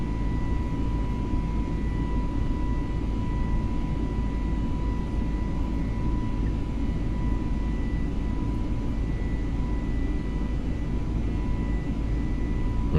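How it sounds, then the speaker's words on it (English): Steady cabin drone of a Fenix A320neo airliner in Microsoft Flight Simulator 2020, climbing at about 5,400 feet: a constant, even engine roar with a faint thin whine, unbroken throughout and without talk. "It's actually a nice sound that we have here in this plane. This is the Neo and not the 200 from Fenix."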